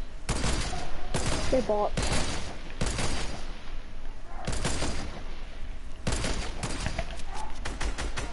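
Fortnite gameplay gunfire comes in loud bursts of rapid shots and heavy single cracks, spread across the clip with quieter gaps, while players talk over it.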